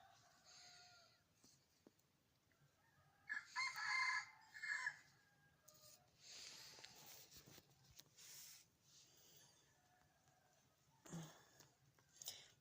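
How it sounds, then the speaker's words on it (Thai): A rooster crows twice outdoors in the morning on a farm with a vegetable garden, fairly loud and close, with bird chatter and a faint background hum. "ไก่กำลังคัน"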